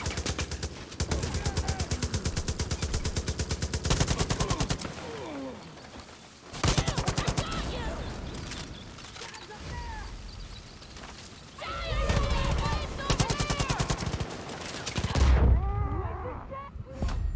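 Dense automatic gunfire from all sides in the video game Far Cry New Dawn, rapid bursts of shots in long volleys with brief lulls between, loud and close, with voices speaking over parts of it.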